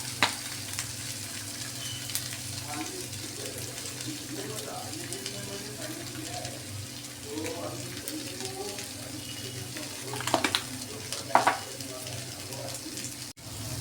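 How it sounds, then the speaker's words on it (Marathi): Boiled potatoes are stir-fried in a pan for potato bhaji. A moderate sizzle runs throughout with occasional spoon scrapes and clatters, and a voice talks quietly in the background. "ते चांगलं परतून झाल्यावर त्यामध्ये उकडलेले बटाटे टाकू."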